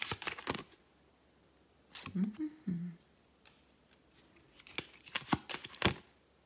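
A deck of tarot cards is shuffled nearby in two short riffling bursts, with a soft rustling handling sound between them in an otherwise quiet room.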